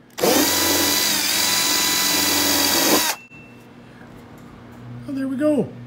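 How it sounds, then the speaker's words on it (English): A power drill bores an inch-and-a-half hole through the top of a fuel tank, a loud steady whine lasting about three seconds before cutting off abruptly, followed by a quiet pause and a brief voice. "then we'll drill the inch and a half hole."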